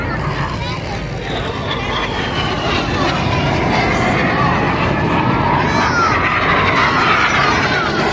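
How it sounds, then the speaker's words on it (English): Red Arrows aerobatic jets at the 2024 Southport Air Show, a loud continuous roar of jet engines that swells slowly over a crowd murmuring in the background. "these aircraft now pull up 562"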